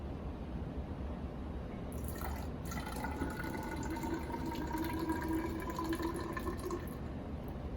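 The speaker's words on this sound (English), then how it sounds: "now I'm going to add 100 milliliter of the 10 times transfer buffer to the cylinder" Laboratory transfer buffer (10x concentrate) poured into a measuring cylinder, a faint, steady trickle of liquid with a rising filling tone over low background hiss.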